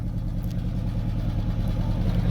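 A 1964 Dodge car pulls away with a steady, low engine rumble that stays close and even throughout, with no talking over it.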